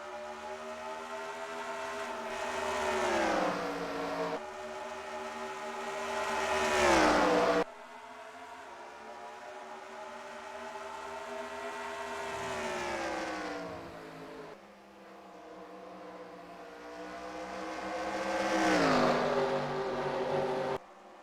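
Stock race cars in a racing video game surge off the start at Rockingham, a pack of engines revving up and down in long rising and falling sweeps, loud and continuous with brief gear-change breaks.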